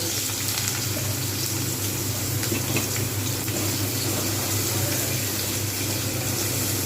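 Bitter gourd pieces fry in hot white oil in a wok, giving a loud, even, continuous sizzling hiss close by with no pauses or voices.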